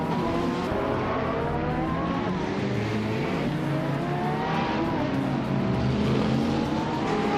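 Ferrari 458 GT3 race car in a racing video game, a steady high engine whine with rising gear pulls and shifts, accompanied by other cars' engines droning close and constant throughout.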